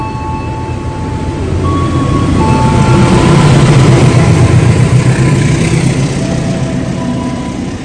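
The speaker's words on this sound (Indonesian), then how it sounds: "Ada kereta api nih yang lewat di sini." A train passes close by in Indonesia, a loud rumbling roar with wheel noise that swells to a peak mid-pass and then fades slightly, with no talk.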